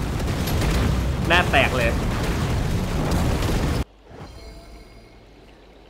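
Loud booming gunshots and explosions from the video game Catalyst Black fill the first four seconds, with someone speaking excitedly over them before the blasts cut off into quieter game sounds.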